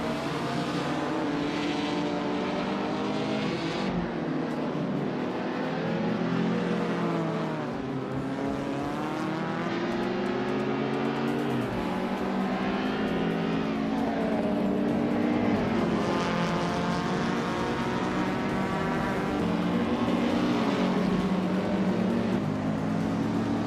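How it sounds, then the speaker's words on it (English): Classic 1975 Ford Escort Mark One race cars lapping a circuit, engines droning loud and continuous with shifting revving pitch throughout. "Pippi Langstrom is leading in a classic Ford Escort Mark One from 1975."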